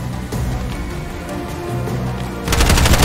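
Sustained gunfire in Bright Memory Infinite, steady rapid shots under game ambience, swelling into a louder, denser volley near the end.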